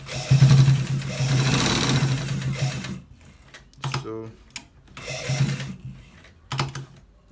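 A sewing machine stitches a shirt in a long whirring run, followed by short stop-start bursts and a ratcheting click, with quiet gaps between.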